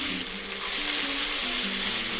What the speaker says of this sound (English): So we are frying this to get the fragrance out.